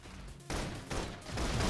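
Rapid suppression gunfire bursts from a sci-fi shooter battle in Love and Deepspace, loud and dense, starting abruptly after a brief lull and rolling on in sustained waves.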